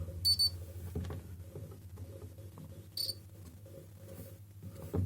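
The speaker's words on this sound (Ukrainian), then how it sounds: "То пікало, бо конденсатор заряджався." Short high electronic beeps from a monitor under repair as its capacitor charges, one near the start and another around three seconds in, over a steady low hum.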